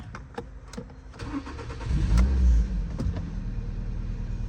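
The engine of a cheap used car with about 250,000 km on it and a check-engine light on turns over and catches. It swells into a louder, close, steady idle with a low, even rumble, and no one speaks.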